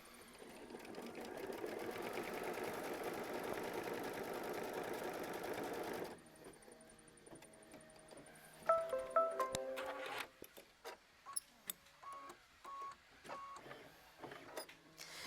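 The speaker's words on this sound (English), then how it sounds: "we're going to go ahead and sew machine stitch step 16, which is going to tack it down and give you your cut line" A machine embroidery sewing machine stitches to tack down a quilt block, giving a steady, fast mechanical whir for several seconds. Quieter clicks, short beeps and intermittent stitching bursts follow.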